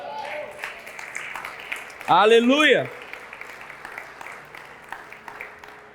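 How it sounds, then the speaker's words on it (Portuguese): A church congregation applauds the Lord during a sermon. Soft, scattered clapping runs beneath a preacher's amplified voice, and a loud sung shout rises briefly in the middle. "Você pode expressar com aplauso ao Senhor?"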